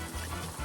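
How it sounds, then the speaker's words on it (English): Water poured into a cooking pot of pork for Filipino pinakbet, a brief soft trickle and splash heard alone at low level. "Add more water"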